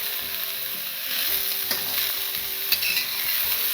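Chinese sausage and cured pork stir-fry in a wok with a bright, steady sizzle, close and fairly loud, under scraping, clattering stirring strokes and one sharp knock near the end.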